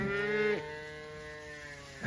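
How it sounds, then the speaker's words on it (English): Calves bawl for their mother out in tall grass, one long moo swelling then breaking off, and a second call starting at the end, fairly close and clear over a quiet field. "They're still bawling for a cow."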